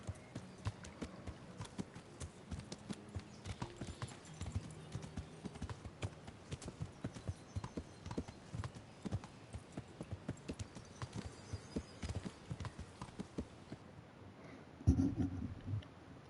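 Horse hooves clip-clop in a steady walking rhythm throughout, fairly quiet and close, in the medieval video game Kingdom Come: Deliverance, with a brief louder thump near the end.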